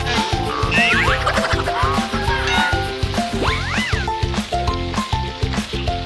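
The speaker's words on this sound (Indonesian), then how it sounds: "Oke, goreng ikannya." Hot oil sizzles and crackles steadily as fish fries, close by, with a background of music-like tones and chirping sounds running throughout.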